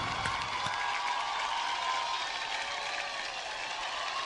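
Audience applause at the Filmfare award show after an award for a drama series, a dense, steady wash of clapping and crowd noise that stays even throughout with no break.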